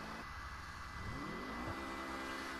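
Rapid GT Classic sports car accelerating in GTA 5 Online, a steady engine drone rising in pitch as it gains speed, heard close and continuous with no talk.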